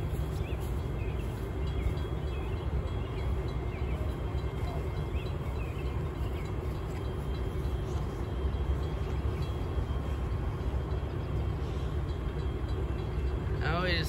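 An Amtrak passenger train departing from a station in Holland, Michigan, a steady low rumble of wheels on rails that holds at a constant level while people talk nearby and a bird chirps briefly.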